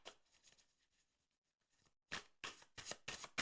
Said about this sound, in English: I'm gonna do a few more shuffles.